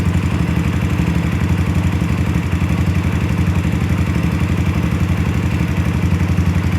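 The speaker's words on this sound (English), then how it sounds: "I know the top end sounds a little ticky, but they're set where they should be." A Yamaha Raptor 125 ATV engine idles steadily up close, its rapid even pulse carrying a light mechanical ticking from the valve top end, with no talking.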